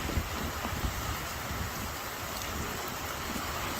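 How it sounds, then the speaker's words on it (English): Rain falls steadily as a soft, continuous hiss with faint scattered drop patter, quiet and uniform throughout with no voices. "3 weeks later, we finally get some more rain"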